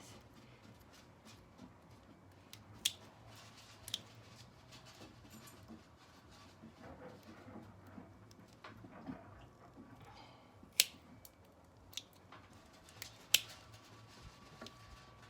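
Hoof trimmers clip overgrown goat hooves, giving a handful of sharp, isolated snips spaced seconds apart over quiet background, close but soft.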